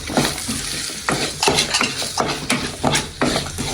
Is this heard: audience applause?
no